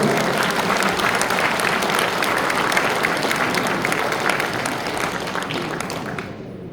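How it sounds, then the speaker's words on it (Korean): Applause for pastors at a church convention, a sustained, even round of clapping from a sizable audience that fades slightly toward the end, with no voices over it. "목사님들 한 박수 부탁드리겠습니다"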